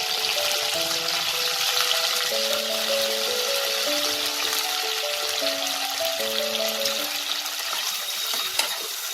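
Diced capsicum and onion frying over high flame in a pan for chilli chicken: a steady, loud sizzle runs throughout with the soft scrape of stirring, and no voices.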